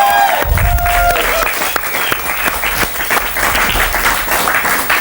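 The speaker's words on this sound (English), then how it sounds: "A big round of applause for Andrew and Ben." Studio audience on a crossword game show bursts into loud, dense applause, with a brief swell of music at the start and crowd clapping carrying steadily to the end.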